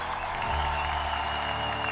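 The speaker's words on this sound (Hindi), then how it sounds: "पूरा मैदान तालियों और खुशियों से गूंज गया।" Cheerful applause fills a fairy-tale contest ground as the little fairy winners are honoured, with many hands clapping over a steady sustained musical tone and no voices.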